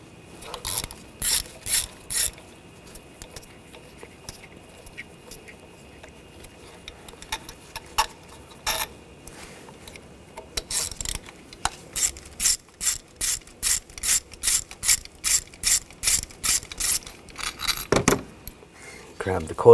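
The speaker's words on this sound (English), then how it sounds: "Using a T30 socket," A hand ratchet fitted with a T30 socket clicks as it removes bolts on a Buick Encore, in scattered short bursts early on and then a long run of rapid, evenly spaced clicks, close and clear with no talk.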